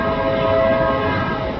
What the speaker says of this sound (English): That train you're seeing now is coming off of the Chicago line, heading down onto the Cleveland Division line, heading towards Bellevue.